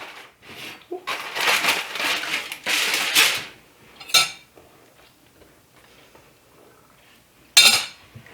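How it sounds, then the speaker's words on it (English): A fork piercing the skin of cooked pumpkin, a few close scraping and clinking pokes against the soft flesh and a pan, in short bursts separated by quiet pauses. "I just have a fork, and then I go right through the skin and see how soft it is"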